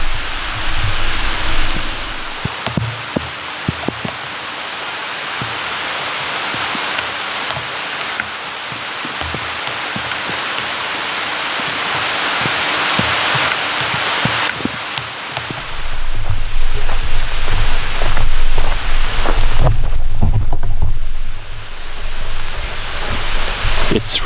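Heavy rain pours at a remote hilltop church site in a dense, steady hiss that swells louder partway through, with occasional low thunder rumbles beneath.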